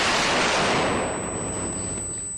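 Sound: flashbang grenade going off in the video game Door Kickers

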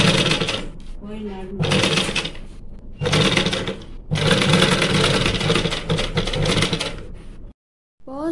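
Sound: sewing machine stitching lace onto a blouse

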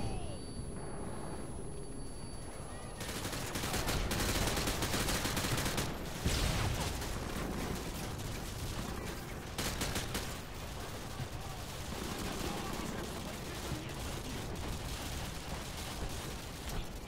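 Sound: gunfire in Call of Duty Modern Warfare 2 video game

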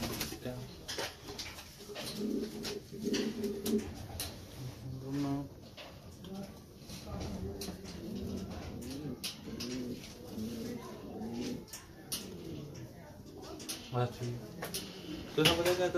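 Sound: fancy pigeons cooing in coop

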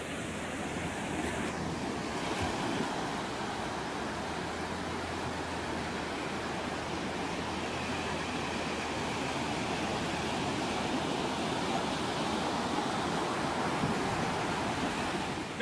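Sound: ocean waves

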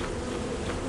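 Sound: bees buzzing at a beehive in video game Lethal Company

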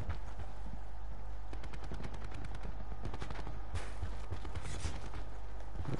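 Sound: Swordfish burst rifle firing in the video game Black Ops 4

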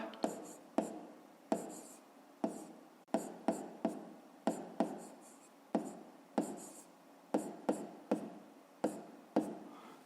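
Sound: writing an answer in a notebook

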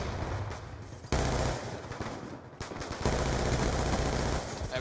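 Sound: assault rifle gunfire in video game Call of Duty: Black Ops 2

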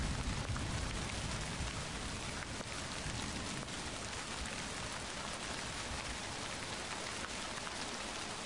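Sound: rain in a video game

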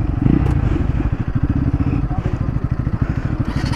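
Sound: Pulsar and Yamaha R15M motorcycles riding in a drag race

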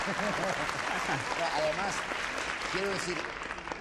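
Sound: audience applause

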